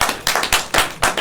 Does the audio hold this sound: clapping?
yes